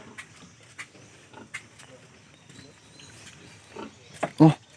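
Low snorts and grunts from pigs come and go over a murmur of background noise, ending with a louder close grunt.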